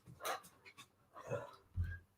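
A dog in a home in the Netherlands gives three short, fairly faint barks and whimpers, spaced apart with quiet gaps between them.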